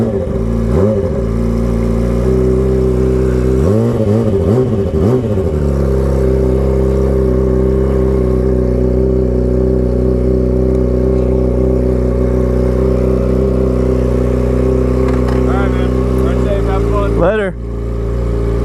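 A Yamaha 600cc motorcycle runs steadily at riding speed, its engine droning with a few revving rises near the start and a brief shift toward the end, loud and close under wind noise.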